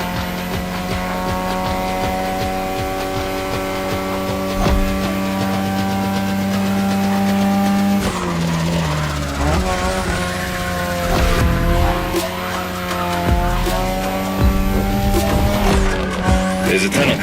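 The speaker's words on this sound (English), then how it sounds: "Tonight your ride is a 3rd Gen 2002 Mazda RX-7. Lightweight, compact, a sick rotary engine, and one hell of a look." A 2002 third-generation Mazda RX-7 with a rotary engine racing in The Crew Motorfest: loud, continuous high-revving engine whine with gear shifts, rising and falling pitch and tire squeal, no talk.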